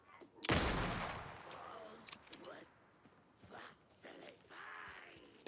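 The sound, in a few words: hunting rifle gunshots in video game Alan Wake 2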